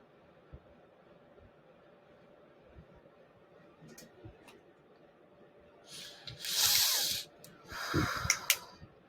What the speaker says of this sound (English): Excuse me as I blow my nose.